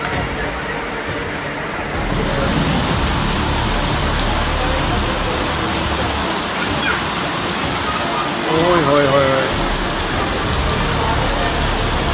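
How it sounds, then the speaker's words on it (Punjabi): Heavy rain pours steadily on a market in Sri Anandpur Sahib, a dense, loud hiss of water hitting surfaces, with faint voices briefly audible beneath it. "ਬੜਾ 10 ਮਿੰਟ ਦਾ ਮੀਂਹ ਨੇ ਇਸ ਵਾਰ ਤਾਂ ਉਹ ਕਰਤਾ ਜੀ"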